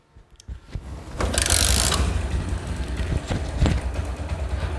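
An old Bajaj Discover 135 motorcycle engine with a faulty, noisy head runs close by, a rapid mechanical clatter and rattle over a low steady hum, rising loud after a quiet start.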